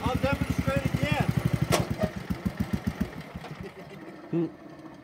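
An old, problem-ridden John Deere lawn tractor engine runs with a fast, steady putter that slows and fades toward the end, with people talking over it.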